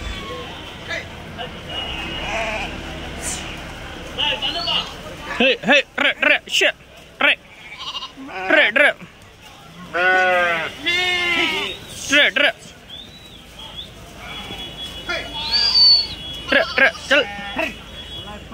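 Sheep and rams at a Tuesday livestock market in Kadiri bleat repeatedly and loudly close by, in short bursts between people talking amid general market chatter.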